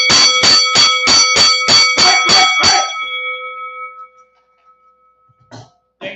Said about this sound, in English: And then I'll sound the bell and I'll say,